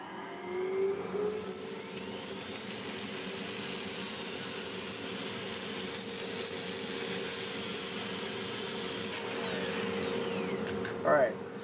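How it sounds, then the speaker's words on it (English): A dust collector beside a wood lathe starts up and runs as a steady, loud whooshing drone while black oak is sanded, shutting down near the end, with a voice speaking briefly at the finish. "I'll get my dust collector turned on and face mask on"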